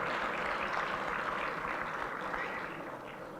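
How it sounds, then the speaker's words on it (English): An audience at a formal distinguished session claps in a steady, moderately distant round of applause that fades a little toward the end. "Let's give her a round of applause"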